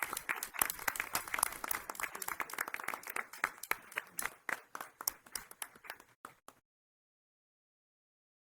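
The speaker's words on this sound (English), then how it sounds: "I want to give him a round of applause and acknowledge all the hard work." Applause at a school board meeting, a roomful of people clapping for several seconds before it stops abruptly, with no talking over it.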